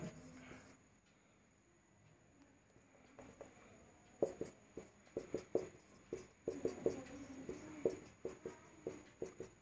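Chalk or marker writing on a board in a maths class on number system unit digits: quiet at first, then a run of sharp taps and short strokes in the second half, close and without talk.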